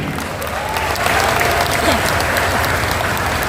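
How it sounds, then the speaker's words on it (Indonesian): Audience applause at a youth victory celebration gathering, a dense steady wash of many hands clapping at close range, sustained evenly throughout with a faint voice tone underneath. "Kita tepuk tangan."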